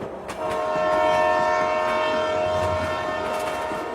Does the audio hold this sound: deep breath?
no